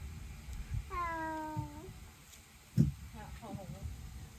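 A cat gives one clear drawn-out meow, followed by a softer, shorter mew, close by over low room noise with a thump between them.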